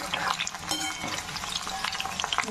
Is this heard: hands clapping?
no